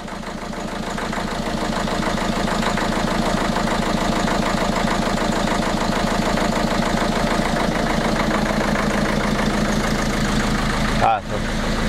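A Ford Focus RS engine idles after a restart with injectors that had run empty, settling into a steady, close, rhythmic idle with even pulsing throughout and a sharp thump near the end.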